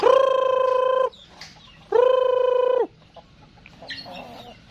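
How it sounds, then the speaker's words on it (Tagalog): Chickens call out loudly twice in long, drawn-out cries, followed by softer scattered clucking nearby. "tawagin natin yung mga manok natin"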